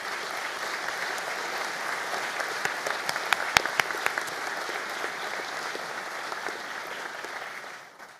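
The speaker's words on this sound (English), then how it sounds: "give a little round of applause to those who supported you along your journey." An audience at a graduation ceremony applauds, a dense, sustained crowd of clapping with a few sharper nearby claps standing out. The applause holds steady for several seconds and then tapers off quickly at the end.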